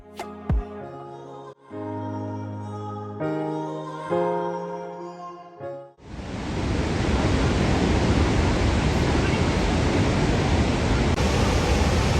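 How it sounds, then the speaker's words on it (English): A steady, broadband roar of rushing water from Niagara Falls fills the second half after a stretch of calm melodic music, loud and continuous like a nearby waterfall. "And then the waterfalls. Wow, look how gorgeous."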